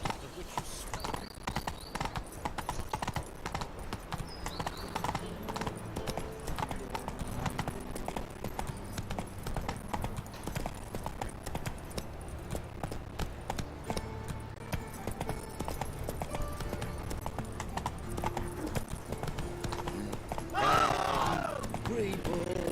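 Roach the horse gallops in The Witcher 3 (Polish version), a steady rapid clip-clop of hooves running continuously under game dialogue and background score.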